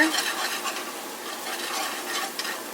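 Flour is stirred into a hot pan for gravy, producing a continuous close scraping swish over a soft sizzle with no voices.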